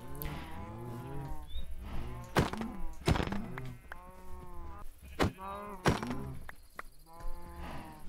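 Several Minecraft cows mooing in a pen, overlapping drawn-out lowing calls repeated throughout, mixed with sharp thuds and clicks from game actions, fairly close and moderately loud.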